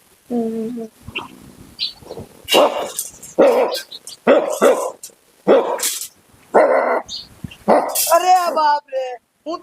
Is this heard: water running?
no